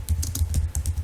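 Quick, steady typing of code on a computer keyboard, a close run of about eight crisp key taps with a faint low hum underneath.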